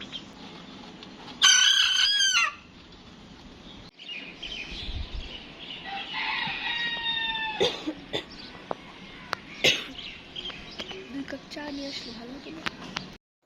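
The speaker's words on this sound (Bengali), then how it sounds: "চারপাশে শুধু মোরগ ডাকছে আর ডাকছে।" Roosters crow loudly and repeatedly from nearby, mixed with chickens clucking, on a rooftop surrounded by neighbouring poultry kept on balconies; a person talks intermittently underneath.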